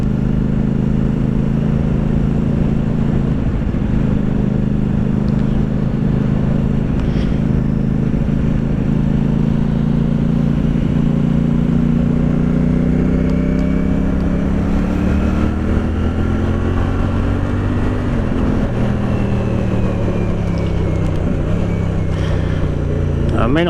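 A CF Moto 450 SR-S motorcycle on a test ride, its engine droning loud and close throughout, pitch rising and falling as the rider works through the revs, with a voice talking beneath.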